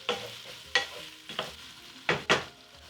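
Garlic and red pepper flakes sweat in a pan for sukuma wiki, heard as a low sizzle broken by five sharp spoon scrapes and taps at uneven intervals.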